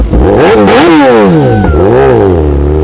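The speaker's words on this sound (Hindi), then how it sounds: "इस बाइक की आवाज खतरनाक है" A Kawasaki Ninja ZX-10R superbike engine revs hard and close, rising and falling in repeated sharp bursts of loud, throaty acceleration with no speech.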